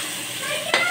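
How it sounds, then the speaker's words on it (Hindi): Meat and spices fried for aloo gosht in a pan, a loud, close, continuous sizzle with a brief stirring scrape near the end. "इसी तरह मैं 2 मिनट तक भूनूंगी"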